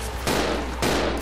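Gunfire in Resident Evil 0 HD at a treatment plant, with two loud close blasts about half a second apart, each with a broad ringing decay over a low hum.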